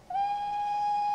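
Steam locomotive whistle sample from a J21 train simulator add-on: a single sustained, steady tonal blast with bright harmonics, sounding close and loud and continuing without a break.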